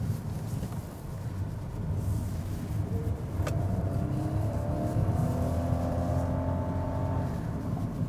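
A 2020 Nissan Kicks accelerating in S mode along a straight road, heard from inside the cabin as a steady engine drone that rises in pitch, with road and wind noise underneath and no talking.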